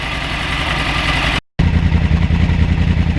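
A Yamaha R1 motorcycle engine idles loudly and close with a rough, steady pulsing burble, cut by a brief silent gap before resuming.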